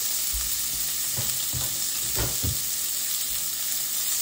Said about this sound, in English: So we've got all of our sausage in the pan.